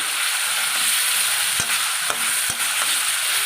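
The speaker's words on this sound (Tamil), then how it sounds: "இப்போ இந்த மஞ்சத்தூளும் இந்த தக்காளியும் நமக்கு நல்லா வதங்கணும்" Loud, steady sizzling of turmeric and tomatoes sautéing in a hot pan, with a few soft thumps of a spoon stirring partway through.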